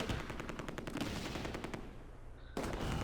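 Mortar support fire in the Close Combat II: A Bridge Too Far wargame, a dense run of rapid repeated blasts and rattling fire that fades out, then a sharp loud burst at the end.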